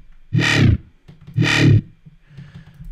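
Two thick, distorted growl bass notes, made in Reason with pitch modulation, growl in turn, each about half a second long with a short gap, followed by a quieter, fading tail.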